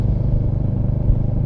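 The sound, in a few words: Royal Enfield Hunter 350 motorcycle engine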